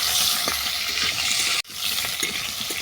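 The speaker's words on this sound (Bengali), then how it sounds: "এরপর তুলে দেবো সাঁচি লাউ। এটাকে 5 মিনিট ভেজে নেব।" Bottle gourd pieces fry in a pan with lightly browned potatoes, giving a steady close sizzle with faint stirring clicks and one brief break partway through.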